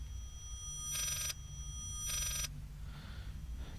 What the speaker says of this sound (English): I never realized that a phone ring played in reverse could sound so disturbing.